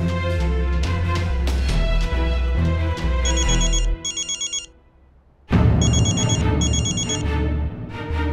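Telephone ringing indoors in a domestic drama scene: a loud electronic ringtone melody with a bright, chiming high pattern over deep bass tones, pausing briefly midway before resuming at full volume, with no speech over it.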